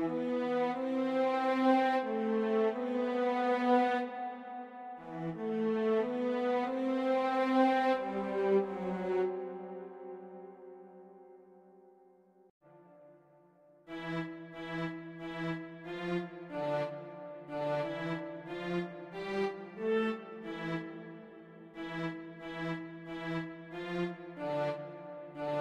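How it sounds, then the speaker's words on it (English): A string section melody made in FL Studio with Fruity Reverb 2 added, playing sustained, ringing notes that fade into a brief lull before a more rhythmic, pulsing string passage continues, clear and alone. "I am adding fruity reverb 2 to get a reverb effect."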